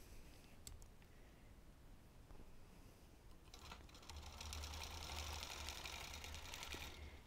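A vintage sewing machine stitches a basting line. Its motor hums faintly at first and then runs louder and steadier for the last few seconds, with a light mechanical rattle and no talking.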